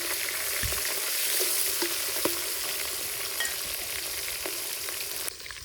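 Fish heads fry in hot oil for a Bengali muri ghonto, giving a steady, close sizzle with a few sharp pops and crackles throughout.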